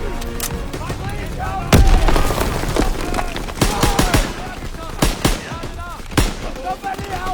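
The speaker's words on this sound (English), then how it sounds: "Tossing out a grenade!" In a combat video game, a grenade blast booms among repeated sharp bursts of gunfire, with loud shots cracking irregularly throughout and voices shouting over the battle.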